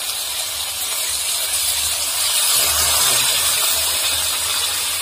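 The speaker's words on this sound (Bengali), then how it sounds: "তারপর জল দিচ্ছি, দেখো জল দিচ্ছি" Water goes into hot frying spices for Bengali-style khichuri, giving a steady loud sizzle and hiss with faint bubbling underneath for a few seconds, with no talk.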